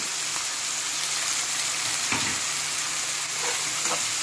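Curry leaves, green chillies and cumin seeds sizzle and fry steadily in hot oil, a continuous close crackling hiss with a few brief stirring scrapes.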